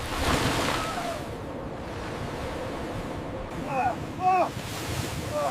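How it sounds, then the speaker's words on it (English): Rough North Pacific waves and gusting wind roar steadily as spray breaks over the bow of a deep-sea longline fishing boat, with a few faint cries carried over the noise. "The North Pacific rears up, sending walls of spray over the bow."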